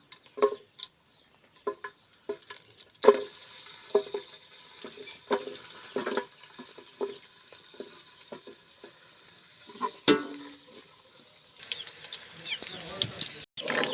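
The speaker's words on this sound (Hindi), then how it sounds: "अब मैं सबसे पहले इसमें प्याज डालूँगा।" Sliced onions for mutton karahi hit hot oil in a pan and sizzle, and bursts of stirring and clinking join in, with a tap of water now and then. A voice talks quietly in the background.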